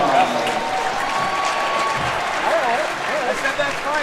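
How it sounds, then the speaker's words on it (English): A crowd in a high school gym gives a round of applause after a girls' and boys' basketball doubleheader, sustained clapping mixed with voices and gym echo, with talk running through it. "Give them one more round of applause."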